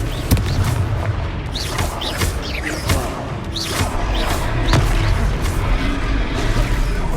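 Confringo explosive spells and battle effects in Hogwarts Legacy, a string of sharp booming blasts and cracks every second or so over a loud, busy combat bed, close and forceful.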